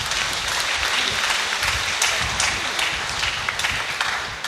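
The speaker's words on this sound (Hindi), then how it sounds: "तालियां मार करके उनका स्वागत करें।" A church congregation claps loudly and steadily for a priest at a Palm Sunday service, a dense sustained wash of many hands that fades slightly at the very end.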